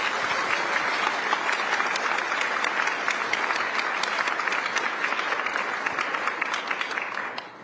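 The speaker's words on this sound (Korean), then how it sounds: "대통령님과 여사님께 뜨거운 환영과 감사 박수 부탁드리겠습니다" Sustained, loud audience applause welcoming the South Korean president and first lady at a Korean community gathering in San Francisco, dense and steady throughout before tapering slightly at the end.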